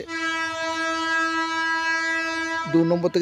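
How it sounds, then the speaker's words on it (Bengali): A loud, sustained train horn blares for nearly three seconds at a railway level crossing in Bongaon, then cuts off into rumbling and clattering as the train draws near at high speed on track 3. "ট্রেনটা আসছে 2 নম্বর থেকে"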